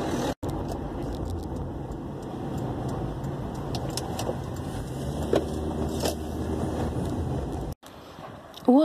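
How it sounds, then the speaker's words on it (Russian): A car with a scratched, damaged rear bumper is being parked, its engine giving a steady low rumble throughout with a few faint clicks and brief dropouts. "Сейчас вот припаркуюсь"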